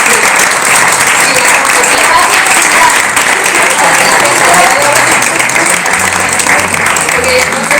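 Sustained audience applause at a talk event in a Spanish town, dense steady clapping for nearly eight seconds at an even level, with a faint voice under it.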